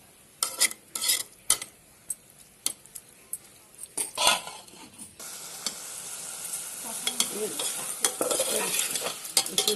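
Banana flower with coconut milk is stir-fried in a pan, with sharp spatula scrapes and clatters against metal in irregular bursts, then a steady close sizzle underneath.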